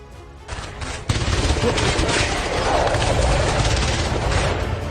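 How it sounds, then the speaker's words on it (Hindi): Rapid bursts of gunfire crackle densely over a heavy rumbling background, loud and sustained after a brief quieter start. "ताबड़तोड़ फायरिंग"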